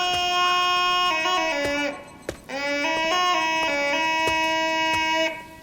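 A sustained, buzzy synthetic car horn tone in the game Urayama sounds in two long blasts with shifting pitch, like an electronic car horn honking.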